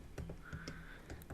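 Keys tapped on a Mac computer keyboard in a quick, irregular run of faint clicks, close and quiet, over a low background hum.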